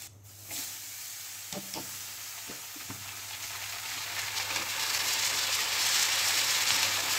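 Food fries in a pan on a home kitchen stove with a steady, gradually rising sizzle and hiss, marked by a few soft clinks early on and no talk.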